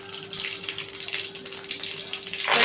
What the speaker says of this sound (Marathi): जिरी मोहरी छान तडतडू द्यायची.